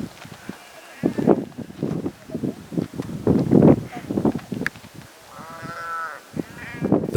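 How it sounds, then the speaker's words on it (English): Several sheep in a grazing herd bleat at varying distances over a windy, rumbling outdoor background in the Colorado mountains, with one long, wavering bleat standing out near the end. "We unexpectedly came across a herd of sheep grazing in the countryside."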